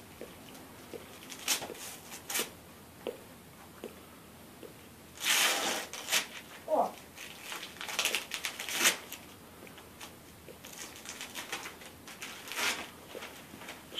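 Christmas gift wrapping paper being torn open indoors, with quick crinkly rips and rustling bursts, one louder tearing stretch near the middle, separated by quieter handling noises.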